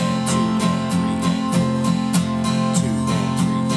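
Acoustic guitar strummed down and up in even straight eighth notes, a steady ticking pulse of chords with regular, evenly spaced strokes, played alone and close.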